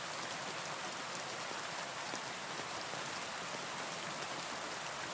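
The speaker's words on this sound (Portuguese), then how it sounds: "A canção da chuva." Rain falls at night in a continuous, dense hiss of drops on a surface, even and unbroken throughout, with no voices.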